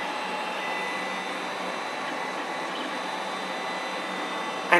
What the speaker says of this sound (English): Of all the 4 fans, the power supply fan is the least noisy, while the computer and the nozzle fan are the loudest.